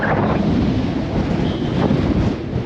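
Strong wind gusts across open Las Vegas desert, buffeting the microphone with a loud, continuous low rumble and roar and no voices.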